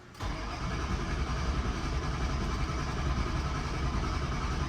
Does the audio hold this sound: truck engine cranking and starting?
yes